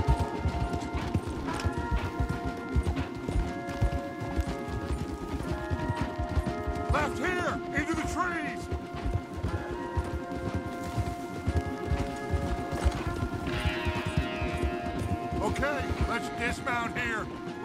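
Horses galloping in Red Dead Redemption 2, steady clip-clop hoofbeats at a fast ride running throughout under game music and occasional voices.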